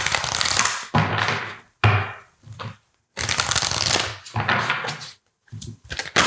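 A deck of guidance cards is shuffled close up in several loud riffling bursts separated by brief pauses, with no talk over them.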